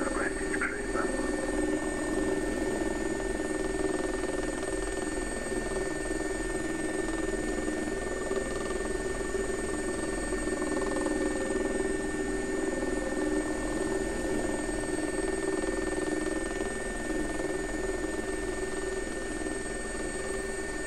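Simulated SA-342 Gazelle helicopter in the X-Plane 11 flight simulator, a continuous steady turbine whine and rotor drone holding evenly at constant loudness throughout.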